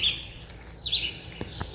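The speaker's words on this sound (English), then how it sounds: "Listen to all the birds." Small birds chirp and tweet at a campground near a mine pit lake in northern Minnesota, with short high calls, one fairly close, over quiet outdoor background.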